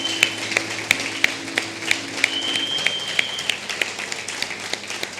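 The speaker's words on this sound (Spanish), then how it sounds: "¿Qué le parece si le damos una ofrenda de palmas por las mamás que están aquí?" A church congregation gives a round of applause for the mothers present, steady clapping from many hands with a few sharper individual claps standing out, fairly close and sustained throughout.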